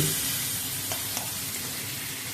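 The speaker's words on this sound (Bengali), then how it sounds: "সেটাকে আবার আমি রসুন লঙ্কার সাথে আবার একটু ভাজা ভাজা করে নিচ্ছি" Softened tamarind frying in a pan with garlic and chili makes a soft, continuous sizzle, with a couple of faint stirring ticks near the middle.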